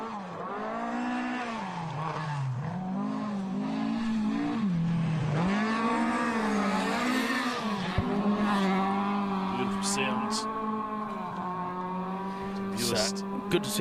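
Two-wheel-drive rally car on a special stage at the International Rally of Whangārei, its engine note rising and falling through gear changes with brief tyre noise, loud and continuous under a commentator's voice.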